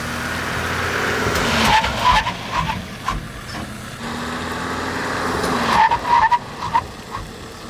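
A camper van brakes hard from 50 km/h on a track, its tires skidding and squealing in two loud bursts a few seconds apart, with engine and road noise underneath and no voices.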